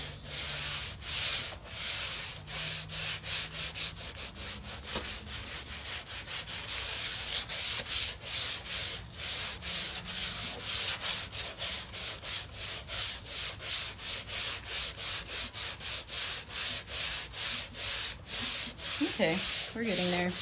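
Steady rhythmic sanding of a black cosplay foam sword in a garage, continuous close rasping strokes with no talk.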